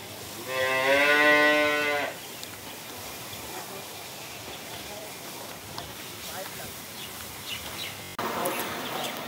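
A dairy cow on a farm in Pabna gives one long, loud, deep moo near the start. Faint bird chirps and background sounds follow, and people talk later on.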